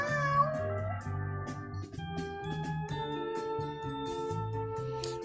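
A Pixie-bob cat meows repeatedly in tonal, drawn-out calls of varying pitch, fairly close and clear, with no talking over it.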